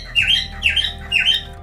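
A pet parrot lets out three harsh, loud squawks close by, spaced evenly in quick succession over a low background hum.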